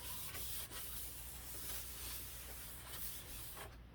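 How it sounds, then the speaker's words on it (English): Sheet of 240 grit sandpaper rubbed back and forth across a ShadowMega RadZ build part, giving a steady close, dry abrasive hiss with faint rhythmic strokes throughout. "And just go across it a few times. And this is a 240 sandpaper."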